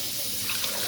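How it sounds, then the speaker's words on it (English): Tap water runs steadily into a pot for radish and spare rib soup, a continuous close rushing splash with no talking over it. "we're going to add water"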